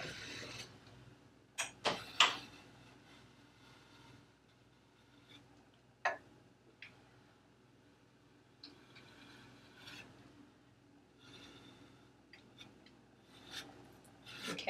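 Scraping and rasping as candy melts coating a cake are shaved down with a blade, faint irregular strokes with a few sharper scrapes, quiet and close, no talk.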